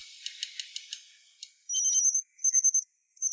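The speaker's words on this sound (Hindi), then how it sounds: "कौन फोन कर रहा है?" A phone rings with high, buzzy electronic chirps, a quick rattling burst followed by repeated short trilling tones, faint and thin.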